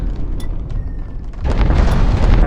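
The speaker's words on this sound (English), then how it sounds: "our cannons seem to be firing at the carrier as well" Spaceship cannons fire on a carrier in Infinity: Battlescape, deep booming blasts under a low rumble that swells into a loud sustained roar of fire.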